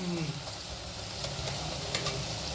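Onions frying until golden brown in a pan for prawn masala, a soft continuous sizzle with faint crackles and light stirring, close and steady throughout.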